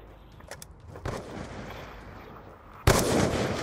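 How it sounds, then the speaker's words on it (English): Gunfire in the Black Ops 2 video game during a trickshot killcam: a few faint cracks early on, then one loud, close shot near the end that trails into a noisy tail. "Hey Twice, I hit a wallbang too."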